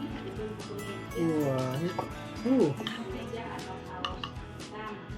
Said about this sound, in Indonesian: Kita aduk lagi guys.